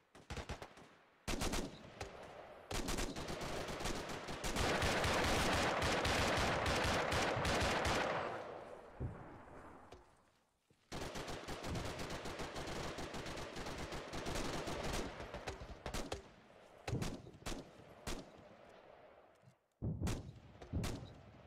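Sustained gunfire into the woods in Arma 3, dense bursts of rifle and machine-gun fire in long loud stretches, broken by brief pauses and scattered single shots toward the end.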